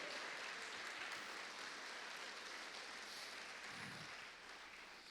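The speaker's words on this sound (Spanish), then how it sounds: "Si usted se lo cree a Dios, déselo con palmas a Él." A church congregation applauds at a sermon, a soft, distant, sustained patter of many hands that fades slightly toward the end.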